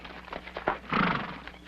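Horses in a western setting give a brief whinny and a few hoof clops near the listener over a murky background of movement, with no speech.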